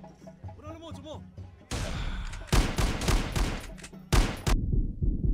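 Gunshots in a poacher-hunting park ranger video game, a burst of loud sharp shots and rattling fire following a stretch of speech, with two sudden heavy blasts.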